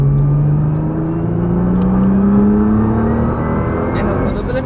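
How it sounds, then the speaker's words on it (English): A Nissan GT-R accelerates on a race track, its engine note rising steadily in pitch as a loud, continuous drone heard from inside the car, with an instructor talking over it. "Now we're starting to turn. Aim straight at the little green cone. Aim straight at it. You can accelerate."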